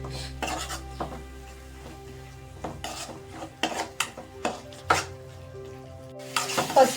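A spoon stirs turmeric through frying food in a pan in an Indian home kitchen, giving soft sizzling with a series of scraping clinks of utensil on metal, close and fairly quiet, with no talking.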